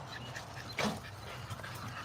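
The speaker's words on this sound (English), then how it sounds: "This dog here been outside all day, running back and forth." An American bully dog, worn out from running outside all day, lets out a single short, breathy pant or whimper close by, with a quiet room behind it.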